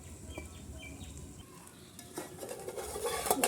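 A spoon stirs and scrapes through Katla fish biryani in a cooking pot. The soft, quiet scraping and clinking grows a little louder toward the end, with no one speaking.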